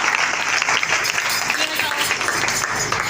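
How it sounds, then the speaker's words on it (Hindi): Applause fills a convention hall for a young man, a dense, steady wash of many hands clapping, loud and close throughout, with a voice speaking faintly beneath it. "तालियां बजाएं जी जवान के लिए।"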